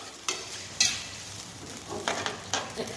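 Chopped mushrooms are stir-fried in a pan for a canned-fish chili paste: a soft, steady frying sizzle is cut by several sharp scrapes and clacks of a utensil against the pan, at an irregular rhythm, with no talking.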